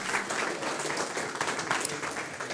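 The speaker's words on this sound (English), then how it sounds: "Round of applause." An audience at a hackathon final presentation bursts into applause, a dense, even wash of many hands clapping at close range that fills the whole short stretch.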